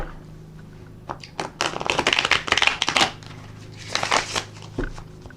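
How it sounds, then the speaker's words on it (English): Tarot cards riffle and shuffle in a few brisk bursts, close up, with soft papery flutters and taps between them and no voices. "we're just going to put another shuffle and ruffle on the deck and get started"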